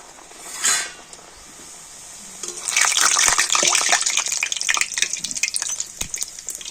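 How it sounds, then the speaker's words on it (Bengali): Coconut dough balls dropped into hot oil set off a loud, dense frying hiss and crackle that swells up and keeps bubbling, following a brief earlier burst. "আবার আমি তেলের মধ্যে দিয়ে দিচ্ছি"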